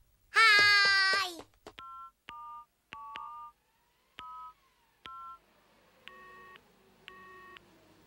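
Cartoon telephone dialing: a short chirpy burst, then a series of clean electronic keypad tones in steady sequence, followed by faint repeated ringing or busy-signal beeps.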